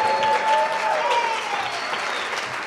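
An event audience breaks into loud, continuous applause with some cheering, a dense wash of clapping that holds steady before easing slightly, with a faint voice under it.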